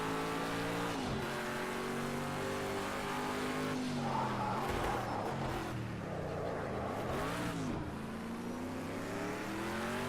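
Loud, continuous engine drone of a car in a racing video game with assists on, its pitch rising and falling through gear changes, with tire skids and squeals as it slides through corners.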